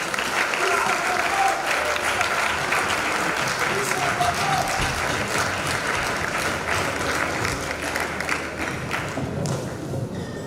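An audience claps loudly and continuously at a 60th-birthday celebration for a bishop, a dense wash of applause with voices mixed in throughout.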